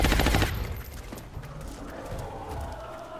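Gunfire in the video game XCOM: Enemy Unknown: a loud rapid burst of shots at the start, then fading into quieter rumbling combat noise with scattered faint reports.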